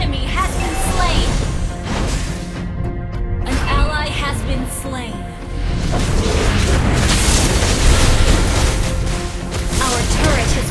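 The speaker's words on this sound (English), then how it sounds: "Our turret has been destroyed." Turret destruction in the Mobile Legends game, a heavy booming crash amid loud game effects and music, with game announcer voice lines over the top.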